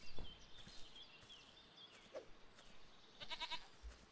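A goat bleats in the survival video game Force of Nature: a short, faint, wavering bleat late in the clip over quiet outdoor ambience with scattered small clicks and soft bird-like chirps.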